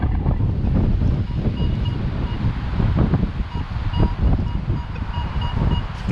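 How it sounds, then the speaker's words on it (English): Strong stormy wind buffeting the microphone outdoors during a metal-detecting dig in Oakland, a loud continuous rumbling roar with gusts rising and falling throughout. "And it's windy."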